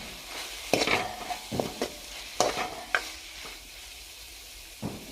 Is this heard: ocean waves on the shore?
no